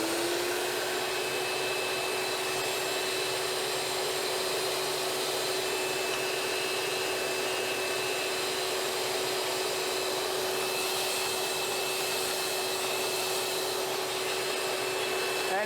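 A new vacuum runs steadily, drawing material from a press with a constant loud whine and a broad rushing hiss, unchanged for the whole stretch and with no talking over it.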